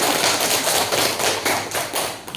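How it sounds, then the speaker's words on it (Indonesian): A classroom of students in an Islamic religious education lesson on ritual purification claps together, a steady close crackle of many hands lasting a couple of seconds without talk. "Tepuk tangan untuk kita semua"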